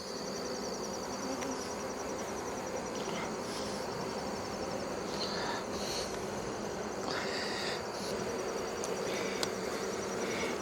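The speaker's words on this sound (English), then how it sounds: "the bees are calmer already. I've got a few flying at me" Honeybees around an open hive during re-queening keep up a continuous buzzing hum, with individual bees passing close by now and then.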